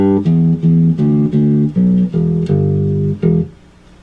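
A bass guitar plays a short, choppy breakdown of sustained low notes from a song in a rhythmic pattern, loud and alone, ending on a fading note.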